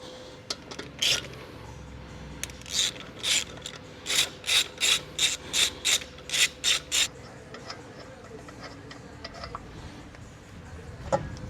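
A torque wrench clicks and ratchets while tightening lug nuts on a 2025 Tesla Model 3 wheel, with a run of about a dozen evenly spaced, fairly loud ratcheting bursts, then quieter scattered clicks.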